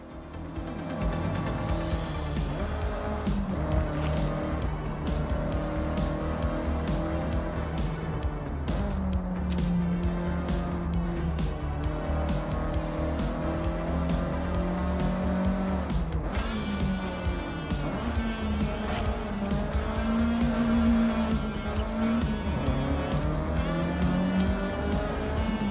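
A car driving in Forza Horizon, a racing game set in Japan, with steady loud engine drone, shifting gear pitches and some tire noise throughout, over continuous game music or ambience.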